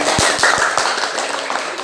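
Students in a mathematics class give a short burst of clapping, a handful of distinct claps over steady room noise and chatter.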